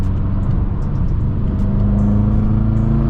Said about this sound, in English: I actually heard the intakes from the inside of the car right there